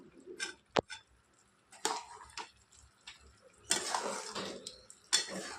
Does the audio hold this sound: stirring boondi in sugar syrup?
yes